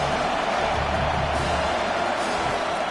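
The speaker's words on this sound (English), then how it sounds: "Listen to this crowd just shaking the girders of this place" A stadium crowd roars steadily at a college football game between USF and Michigan State, a loud, dense wash of cheering that holds through the whole stretch.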